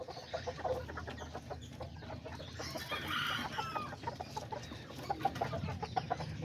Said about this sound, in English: he's one of my favorite little roosters I got